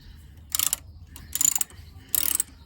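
A hand ratchet tightening bolts on the rear brake of a Yamaha FJR1300 motorcycle, three short close bursts of rapid clicking separated by brief pauses, with no talk.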